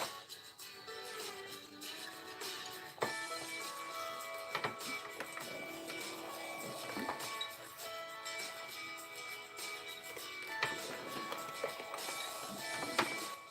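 A sewing machine stitches through fringed fabric in a fast mechanical chatter. The whirring is broken by a few sharp clicks and short pauses, and it stays moderately close and alone.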